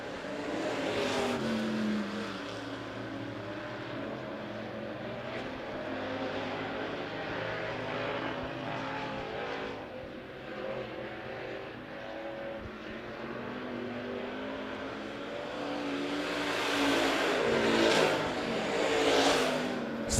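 USRA Stock Car A feature at Monett Motor Speedway: several stock car engines roar and rev around the oval, with cars repeatedly swelling as they pass and fading away, louder toward the end.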